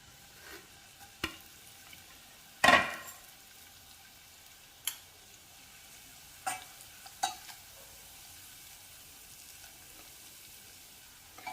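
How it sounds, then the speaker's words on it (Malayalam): Curry leaves fry in hot coconut oil with a faint, low crackle, broken by a few sharp ticks and one louder burst of spattering, close and quiet with no talking. "ആദ്യമേ അതിലേക്ക് കുറച്ച് കറിവേപ്പില വറുത്തെടുക്കണം"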